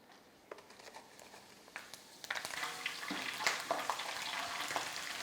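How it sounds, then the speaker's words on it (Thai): Pandan leaves drop into a pan of hot oil, which starts crackling and sizzles more loudly and steadily, with scattered pops, heard up close. "จากนั้นเราจะเอาใบเตยลงไปทอดค่ะ"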